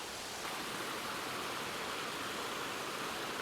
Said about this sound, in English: a real cacophony of sound, lots of obviously crashing water really